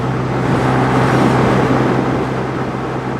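A Honda Hornet CB125 motorcycle running at full throttle on a highway, heard as a loud, steady engine drone mixed with heavy wind rush that continues throughout.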